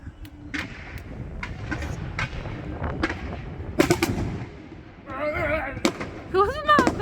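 A fireworks display sets off scattered sharp bangs and crackles, some close and loud, others distant, with whistling bursts near the end and people talking quietly between the blasts.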